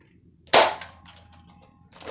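A single sharp, loud shot from a Nerf Rival toy gun, close by, with a hard snap followed by a faint ringing tail and a brief rustle near the end.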